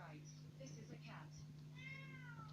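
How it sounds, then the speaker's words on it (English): A cat meowing as played back by a smart speaker's voice assistant, a short synthetic-sounding meow and drawn-out cry heard over a steady electrical hum, with a person's voice briefly in the background. "This is a cat."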